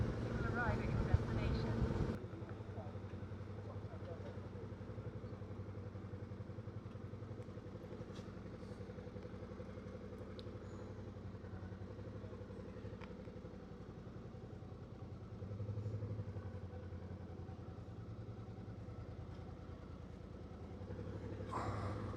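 A motorbike ridden through the Manifold Valley in winter: a steady, low engine drone continues throughout with slight rises and dips, after a brief louder rumble at the start.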